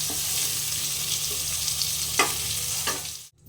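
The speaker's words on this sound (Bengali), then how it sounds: "এভাবে তুমি পটলটা ভেজে নিলে" Pointed gourd (potol) frying in oil in a pan gives a steady, close sizzle that runs throughout, with a couple of short scraping stirs near the end before it cuts out abruptly.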